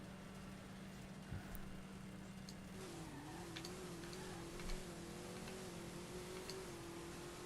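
A Camaro launches in the No Limit 2 Drag Racing video game, its engine note climbing as the tires spin. The sound is faint and steady, with a low drone that steps up into a rising tone partway through.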